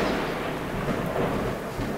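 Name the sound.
thunder during a thunderstorm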